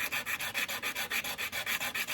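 An acoustic guitar nut sanded with 100 grit sandpaper gives a steady, rapid back-and-forth scratching rasp of about a dozen close, even strokes, with no talk.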